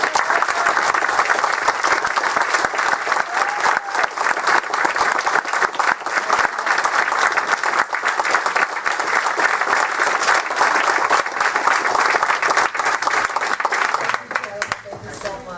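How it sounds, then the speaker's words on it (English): Sustained, loud applause from an audience at a Barnegat Township Committee meeting, dense clapping running for about fifteen seconds before thinning out at the end. "one more time, round of applause for all the dedication"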